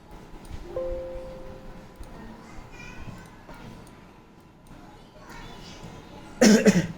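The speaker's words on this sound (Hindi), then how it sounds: "मेरी तबीयत थोड़ा ठीक नहीं है, इसलिए खांसी आ रही है" An unwell person gives a few scattered coughs and throat sounds amid quiet room noise, ending with a sudden loud burst.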